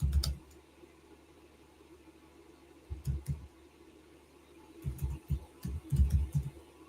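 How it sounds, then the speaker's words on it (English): Quiet, irregular clusters of keyboard key taps, in short bursts separated by pauses, close and soft. "You can hear my typing skills."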